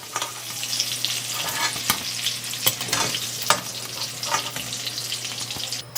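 Hot oil sizzles in a kadai while fried eggplant is lifted out, a steady close crackle with scattered sharp clicks of a utensil against the pan and no voices.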